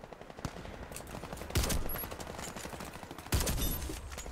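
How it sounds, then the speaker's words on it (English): Automatic gunfire in the first-person shooter Warface, with rapid bursts running throughout and two louder, sharper volleys standing out close by against continuous background shooting. "Who is shooting me?"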